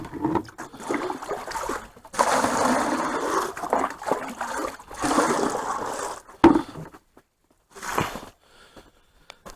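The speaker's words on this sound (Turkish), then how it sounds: "Suyumuzu ılıştırıyoruz. Sıcak su veriyoruz arkadaşlar." Warm water is poured out for farm animals on a snowy day in cold weather, with bursts of splashing and gushing separated by short pauses and a sharp clunk near the end, loud and close.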